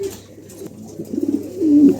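Pigeons sitting on eggs coo softly and close by, a low throaty murmur that builds into a sustained rolling coo at the end.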